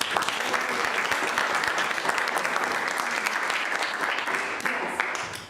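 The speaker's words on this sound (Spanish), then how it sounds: "les pido a todos que le demos un gran aplauso a Tomás" An audience at a school parents' gathering applauds, a dense, steady wash of many hands clapping close and loud for the full stretch, then tapering slightly at the end.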